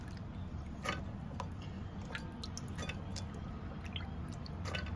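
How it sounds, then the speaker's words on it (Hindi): Soaked, rinsed chickpeas going into a pressure cooker for chole: scattered soft wet drips, taps and squishy clatters, fairly quiet over a low background hum. "और अब हम इस कुकर में डाल देंगे इन छोले को।"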